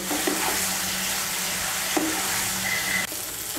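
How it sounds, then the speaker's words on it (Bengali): Spices frying with flat beans and potatoes in a pan over medium heat for a Bengali vegetable curry, a steady close sizzle with a few soft stirring scrapes and no talk. "মিশিয়ে নিয়ে আঁচটাকে মিডিয়াম করে মশলাটাকে ভালো করে কষিয়ে নেব সবজির সঙ্গে।"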